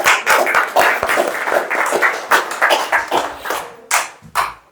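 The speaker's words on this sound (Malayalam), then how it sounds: "നമ്മ ഒന്ന് കയ്യടി കൊടുത്തേ ഭാരവാഹികള്" An audience at a career guidance class for students claps for the office bearers, a burst of close, dense hand claps that rises and falls for a few seconds before trailing into a couple of separate claps.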